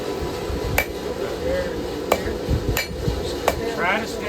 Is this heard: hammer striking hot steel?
yes